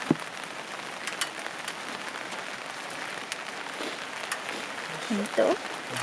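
Rain falling at a campsite, a steady soft patter with scattered louder drops, while a person talks quietly nearby.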